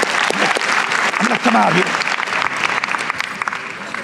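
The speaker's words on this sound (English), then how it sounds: "Give him a round of applause." Loud, dense audience applause fills the space throughout, with a voice speaking briefly over the clapping in the middle.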